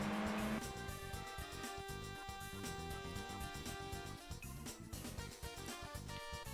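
A Honda Beat kei car races in Gran Turismo 3, its small engine revving up and down through gear changes with bursts of tire squeal, loud and close throughout.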